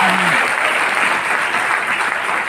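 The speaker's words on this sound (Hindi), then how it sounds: "हमारे केशव रावत जी पर जोरदार तालियां उनके लिए" Loud, dense applause for a crown president at a gathering, a sustained roar of many hands clapping together. A brief tone can be heard at the very start.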